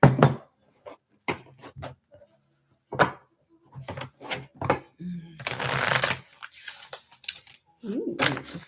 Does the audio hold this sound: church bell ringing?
no